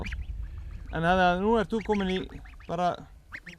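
Tame wild geese honking nearby, several loud nasal honks in short bursts, mixed with someone talking in Icelandic.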